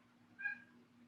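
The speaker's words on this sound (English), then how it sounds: "My cat will not leave me alone while I'm trying to teach." A cat lets out a single short meow, close and fairly faint, over a quiet background hum.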